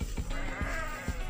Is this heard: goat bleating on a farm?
yes